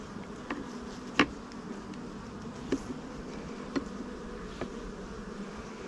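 Honey bees hum softly and steadily from an open Langstroth hive during a varroa mite treatment, with a few faint clicks of frames and hive parts.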